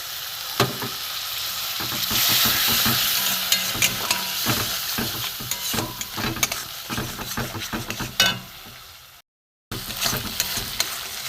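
Spices frying in oil over a high gas flame with a splash of spice-rinsing water added, a loud bubbling sizzle broken by frequent spatula scrapes and clacks, with a brief dropout near the end.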